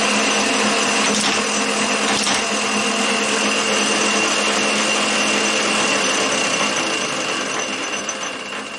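A drive shaft motor on a machine run by a VFD hums and whirs steadily and loudly throughout, with a faint rattling mechanical texture and no talk.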